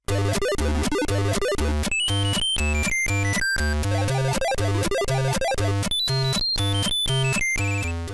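Bright chiptune menu music from a SpongeBob 5-in-1 plug-and-play joystick game, with buzzy square-wave melodies, fast arpeggios and a bouncing bass line, looping steadily and loudly with no talking.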